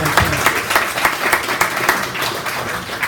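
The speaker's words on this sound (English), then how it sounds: "how about a round of applause for all of you for being here on a Saturday afternoon?" A room audience applauds together on a Saturday afternoon, a dense, steady patter of many hands clapping close by for about three seconds with no talking over it.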